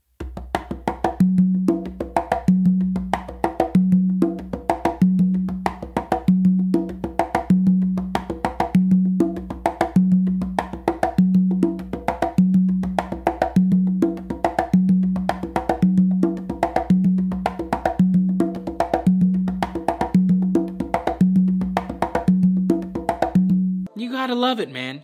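Songo rhythm played continuously on two congas, a steady driving pattern of sharp slaps and resonant open tones with a recurring low tumba note, close and loud, ending abruptly with a brief voice.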